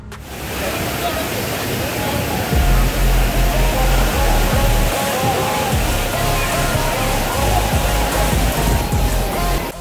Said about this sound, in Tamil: பார்த்தீங்களா எவ்வளோ தண்ணி வருதுன்னு